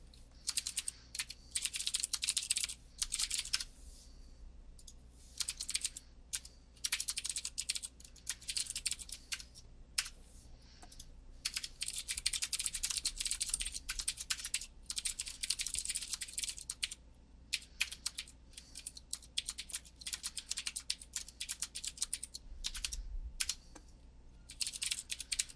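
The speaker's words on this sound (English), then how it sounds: "At least we have Nelson's keyboard to kind of fill in the space." Fast typing on a computer keyboard during a live programming session: clattering bursts of keystrokes with short pauses, close and steady for the whole stretch, no talking.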